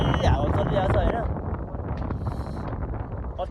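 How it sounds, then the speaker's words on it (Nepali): Cold wind sweeps over rain-drenched people outdoors at Kanyam in Ilam, roaring and buffeting the microphone in continuous gusts, with a voice faintly present beneath the rush. "यस्तो सिरिरी हावा चलिरहेको छ होइन"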